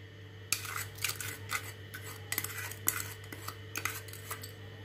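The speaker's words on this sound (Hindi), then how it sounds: "और इसको अच्छे से मिक्स करेंगे।" A metal spoon clinks and scrapes against a bowl while stirring Russian salad dressed with mayonnaise and powdered sugar, in irregular bursts of close, clattering strokes over a low steady hum.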